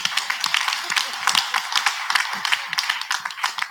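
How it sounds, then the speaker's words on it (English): Applause at an annual general meeting, with scattered hand claps from a modest audience sounding close and crisp, forming an uneven rhythm that runs throughout. "Please, a round of applause."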